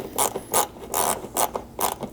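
A T30 Torx bit turns fasteners out of plastic vehicle trim on an LX 570, giving a close, quick run of clicking ratchet bursts in a steady rhythm.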